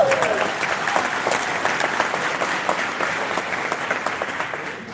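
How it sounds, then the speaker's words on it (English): An audience bursts into steady, dense applause at a live political event, a continuous wash of clapping from many hands that holds at an even level throughout. "Applaud for them, right?"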